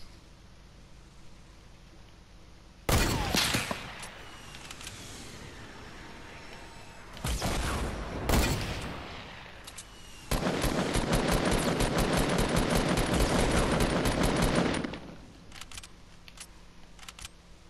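Fortnite video game gunfire comes in several loud bursts: a short volley, a couple of quick shot clusters, then a sustained rapid automatic stream lasting several seconds, separated by quieter gaps of game ambience.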